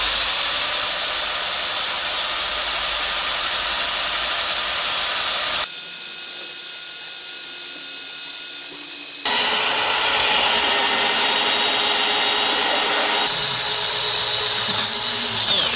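Wet core drill boring through a concrete wall with a water feed, a loud steady whirring hiss that runs continuously with abrupt shifts in pitch and load as the bit cuts, with no talk over it.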